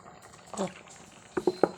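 A jackfruit-seed and green-mango curry bubbles in a pot, giving a soft patter with a few sharp pops and splutters near the end, fairly close and moderately loud.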